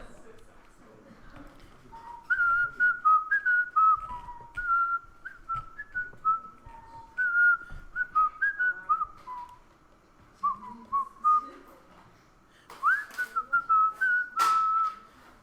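A person whistles the I Dream of Jeannie theme in a classroom, a bouncy tune of short phrases with pauses between them, heard close and clear over faint room noise.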